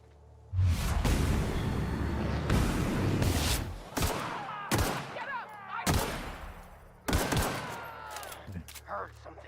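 Gunfire from The Outer Worlds video game, a run of loud shots and bursts with whooshing impacts across the whole stretch, some sharp single cracks standing out, heard with speech over it.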